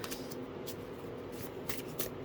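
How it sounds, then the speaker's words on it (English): A deck of tarot cards being shuffled up close, a steady papery riffling and brushing that runs on continuously without talk. "I'm gonna just shuffle this deck and see if we can get any other messages just from this deck for you guys"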